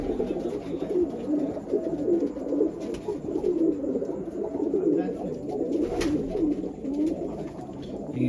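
Domestic pigeons in a breeder's flock coo continuously in soft, overlapping rolling calls, close by and steady throughout, with faint background murmuring.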